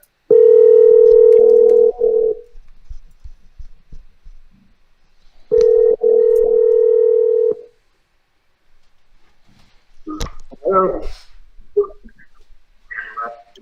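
A steady telephone tone sounds twice, each for about two seconds with a pause between, followed by faint clicks and a few soft voices.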